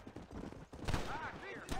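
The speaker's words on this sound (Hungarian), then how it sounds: "Itt valami nagy lövöldözés zajlik odakint." Gunfire in the Western video game Red Dead Redemption, several quick shots crackling at a distance under game ambience and a voice, fairly faint overall.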